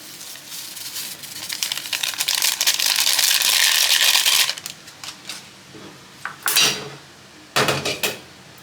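A utensil scrapes and clinks against a metal pot while stirring corned beef sinigang soup, followed by a few scattered knocks and clatters.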